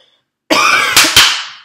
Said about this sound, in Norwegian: Slutt å hoste, jeg orker ikke mer.